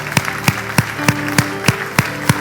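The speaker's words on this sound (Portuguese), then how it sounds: "Aplaude a Jesus pela sua palavra." A church congregation applauding during a worship service, sounding as a steady series of loud, evenly spaced claps about every third of a second, with a faint background hum.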